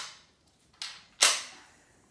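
An FSC gun powered by 12 gram CO2 cartridges fires two sharp, close pops in quick succession, the second louder with a short hissing decay.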